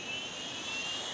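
A Jisulife jet-style neck fan runs at full 100% power, giving a steady, loud, close whooshing hiss with no pauses.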